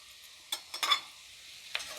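Carrot and onion sizzle gently in a pan for pilaf. The frying is quiet and close, and a few short stirring scrapes and clicks stand out against the low hiss.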